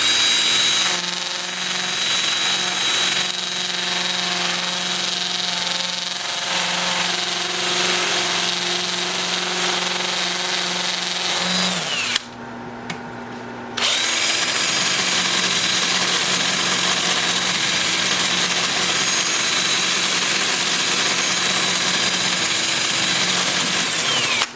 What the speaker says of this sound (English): I'm going to sand all of the bark. And when I'm done with that, I'll switch to my 2-inch disc.